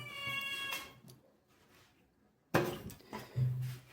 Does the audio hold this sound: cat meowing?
yes